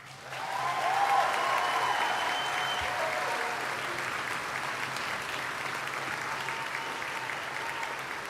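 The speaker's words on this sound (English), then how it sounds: "Let's give one huge round of applause for all of our graduates." Sustained audience applause for graduates at a college commencement ceremony, a broad steady wash of many hands clapping that swells quickly and holds at an even level throughout.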